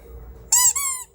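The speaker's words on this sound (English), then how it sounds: "It's a squeaky toy." A plush squeeze llama toy squeaks twice in quick succession, bright and piercing up close, the second squeak slightly longer, with a quiet room murmur beforehand.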